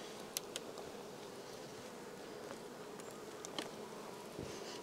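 A dense, steady drone of many honey bees buzzing close by in an opened hive, with a few sharp clicks and taps scattered through it.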